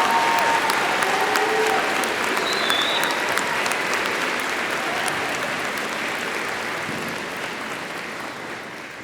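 Bachelor's degree graduates at a Schreiner University winter ceremony receive a full crowd's applause, thick continuous clapping that slowly fades over nine seconds.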